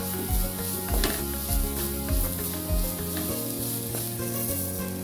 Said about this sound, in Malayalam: കേരളത്തിൻ്റെ സ്വന്തം നാളികേരം ഇട്ട് കൊടുത്തിട്ടുണ്ട് ഇളക്കി കൊടുക്കുക